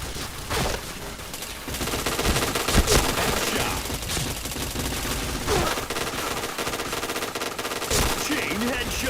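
Rapid automatic gunfire in the Point Blank video game sounds in a dense, continuous barrage with occasional louder shots, loud and close, under a busy mix of game sounds.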